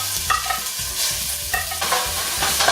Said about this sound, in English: Now simply put the pork in the pan once it's already hot enough.